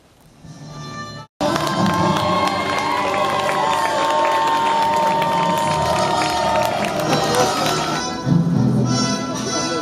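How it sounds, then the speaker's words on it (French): Outdoor crowd at a medieval tournament show cheers and applauds after a brief quiet start, a loud, sustained roar of voices and clapping with shouting children mixed in. "Applaudissez-le!"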